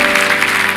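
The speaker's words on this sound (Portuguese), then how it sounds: "pode aplaudir que é para o Senhor" A church congregation applauds during a prophetic seminar session, producing a steady, dense wash of clapping that continues without a break, with faint sustained tones in the background.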